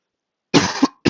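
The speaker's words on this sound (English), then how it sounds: "Apologies for the coughing." A person coughs close to the microphone, a sudden loud double cough after a second of silence followed by the start of another, with no speech.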